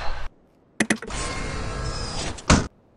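A door in Halo 3 machinima closing: a short burst, then a clattering start into a steady mechanical sliding whir lasting over a second, ending in a sharp loud thud as it shuts.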